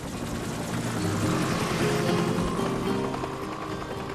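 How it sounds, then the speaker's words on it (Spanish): A rescue helicopter passes overhead above stranded survivors. Its rotor makes a steady, loud, thrumming drone with a low pulsing beat that fills the whole moment. "Vi que el helicóptero sobrevolaba por encima de nosotros."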